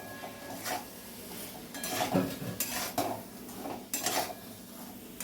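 Pointed gourd being stirred with spices, salt, turmeric and chilli powder in a pan, a spatula scraping and clinking against metal in an irregular rhythm over a soft sizzle, fairly quiet with no talking.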